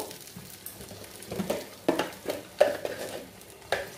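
Green chillies and salt being stirred in a frying pan over low gas: a quiet sizzle broken by a series of irregular utensil scrapes and knocks against the pan.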